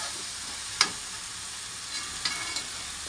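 A spoonful of red chili powder being stirred as it fries in a pan: a steady soft hiss with a few sharp spoon scrapes and knocks, nearby and without speech.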